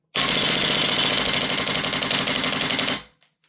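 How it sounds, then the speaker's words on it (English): A Maruyama SCW-9 SD2 PRO gas blowback airsoft rifle dumps a full 45-round long magazine in one loud, close, continuous burst of rapid shots lasting about three seconds, then stops abruptly and falls silent. "Dumps the full 45 rounds and locks back."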